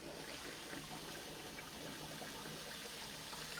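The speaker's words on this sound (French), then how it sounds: "on prend de l'eau chaude du robinet" Hot water runs steadily from a kitchen tap, a constant rushing hiss that stays even throughout with no pauses.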